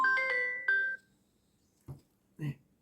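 A phone rings with a short electronic melody of bright, stepped tones for about a second, then stops, followed by a couple of brief, quiet voice sounds.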